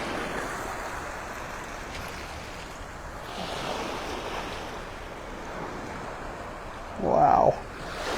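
Ocean surf rolls in at Delnor-Wiggins beach in Naples, Florida, as the tide comes in: a steady, close wash of breaking waves mixed with wind, with a brief louder burst near the end.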